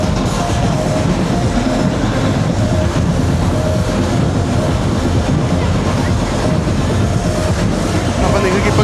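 A Pune Metro train runs at speed, giving a loud, dense, continuous rumble with rattling and rushing noise throughout and no clear break.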